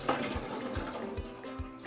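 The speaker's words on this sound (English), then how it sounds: "I've got a tamale steamer right in front of me. To this, I'm gonna add some water." Water is poured into a tamale steamer pot in a kitchen, a soft splashing trickle with a few faint low thumps, heard alone at low volume.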